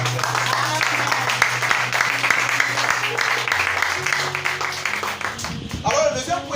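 A church congregation applauding the Lord with sustained, dense clapping mixed with voices and cheering, gradually fading as a preacher's voice returns at the end.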